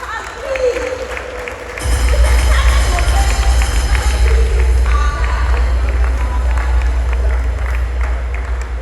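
A voice speaks briefly, then a large crowd at an awards ceremony bursts into loud, sustained applause that carries on steadily to the end.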